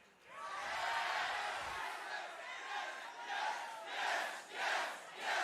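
A wrestling crowd at WWE NXT roars and chants loudly and continuously, the cheering swelling in waves and rising toward the end.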